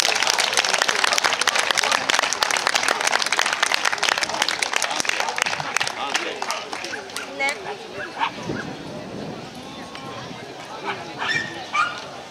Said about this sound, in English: give a big hand of applause for the president